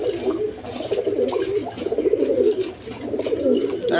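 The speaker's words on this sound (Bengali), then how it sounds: "এইখানে এক পেয়ার লাহোরি কবুতর আছে একদম বিগ সাইজের দেখার মতো কবুতর" A big Lahori pigeon pair coos close up in repeated low, throaty rolling calls that run almost without pause, fairly loud, with a brief dip midway and no voices over them.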